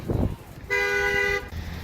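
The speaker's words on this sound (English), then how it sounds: "they honked at me and they yelled at me" A single car horn blares for most of a second, loud and close, after a brief rumble of traffic.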